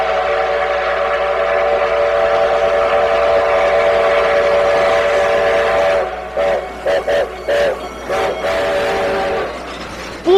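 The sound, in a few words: train engine whistle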